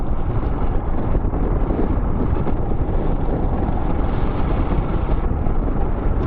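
A motorcycle cruising fast on a rough interstate with heavy wind buffeting the microphone, a loud, steady broadband roar of wind and engine that stays constant throughout with no breaks.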